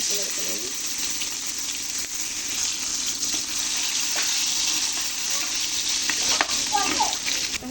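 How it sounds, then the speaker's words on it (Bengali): Oil heating in a pan before small shing fish are cooked, a steady close hiss and sizzle with a few faint clinks and light stirring sounds, a voice speaking briefly over it. "আমি রান্না করার জন্য তেল বসিয়ে দিয়েছি"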